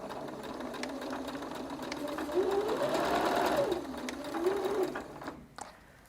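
A sewing machine runs back and forth over fabric with a steady whir that rises and falls in pitch, loudest midway, then cuts off near the end.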